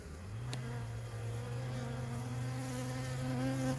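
A steady, close insect buzz of package honey bees being installed in a hive, droning continuously with a slight rise and fall in pitch, with no talking.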